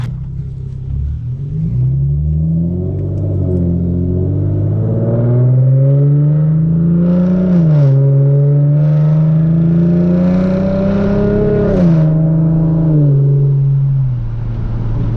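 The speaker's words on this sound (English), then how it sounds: "then we'll do some revs and see if we hear a difference and if this will actually make your Genesis Coupe sound supercharged" A Hyundai Genesis Coupe with a modified intake revs repeatedly, its loud engine note climbing and falling in long sweeps with a deep rumble, close and steady, with no talk.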